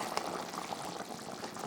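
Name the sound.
egg curry gravy boiling in pan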